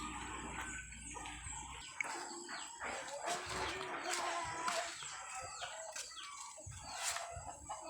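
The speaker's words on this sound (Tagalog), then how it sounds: "Manok namin guys." Chickens cluck and call outdoors, with a rooster-like cry and a dog faintly in the mix over busy background noise.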